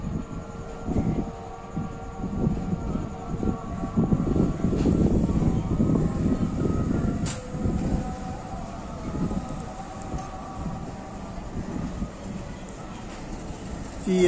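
Pakistan Railways Hazara Express pulling through Rawalpindi behind PH20 locomotive 8312, a low rumbling diesel drone with rolling wheel noise that swells midway and then eases, steady throughout.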